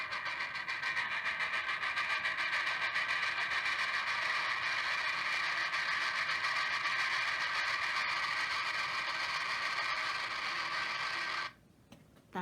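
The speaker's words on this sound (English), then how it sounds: "That's the sound of a train coming" A train coming, a sustained, loud rumbling roar with rattling, metallic wagon noise that stays steady for several seconds, then cuts off abruptly near the end.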